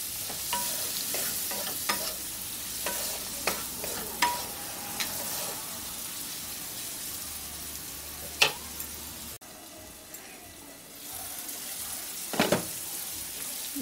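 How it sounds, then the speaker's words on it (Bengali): Vegetables fry in a pan with cumin, coriander, turmeric and red chili powder, a soft steady sizzle broken by sharp scraping clicks of a spatula stirring at irregular intervals, close and moderately quiet. "এখন এই মশলাটার সাথে সবজিগুলোকে আর একটু ভাজতে থাকব।"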